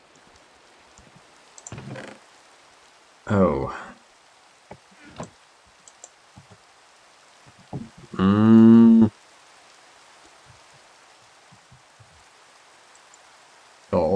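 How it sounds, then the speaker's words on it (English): Faint, steady rain hiss falls in the Minecraft video game, forming a soft background between louder isolated bursts of other sounds, with one short spoken exclamation. "And it's still raining."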